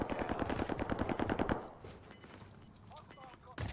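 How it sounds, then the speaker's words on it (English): Gunfire in Call of Duty Warzone: a dense, rapid burst of automatic shots for about a second and a half, then softer intermittent game noise. "Getting shot at though."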